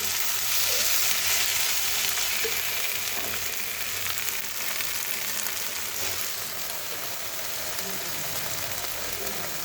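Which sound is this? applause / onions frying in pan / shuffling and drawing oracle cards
onions frying in pan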